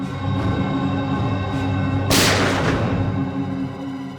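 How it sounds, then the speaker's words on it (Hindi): A single loud gunshot cracks out partway through a CID crime drama scene, followed by a short decaying boom, over a steady background hum with no talking. "सर गोली चलने की आवाज है"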